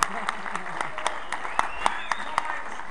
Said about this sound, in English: Started to clap.